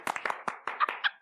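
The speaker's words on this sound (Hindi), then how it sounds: "बजाओ तालियां।" A small group claps briefly on a Hindi TV comedy set, several quick uneven bursts of applause over about a second, moderately loud and close.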